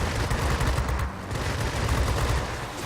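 Aircraft guns fire in a dense, continuous rattle of rapid bursts during a World of Warplanes dogfight, with a brief dip before the shooting resumes.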